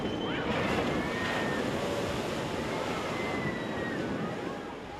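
An amphibious bus plunges into the sea at Handa, throwing up a broad, continuous rush of splashing water and wind noise that holds steady for several seconds before easing slightly.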